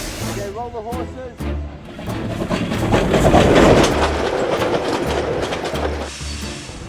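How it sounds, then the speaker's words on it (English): The Kingston Flyer, a working steam train in New Zealand's South Island, rumbles along with rhythmic clickety-clack and a rising hiss of steam, fairly close and loud, while people talk over it. "The Kingston Flyer is a working steam train in the South Island of New Zealand."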